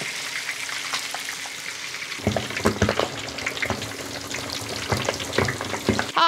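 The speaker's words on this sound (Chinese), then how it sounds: "炸了那面炸皮子哈" Lamb meat skin frying in oil in a home kitchen wok, with a steady crackling sizzle and sharper spattering bursts as the pieces shift in the hot fat.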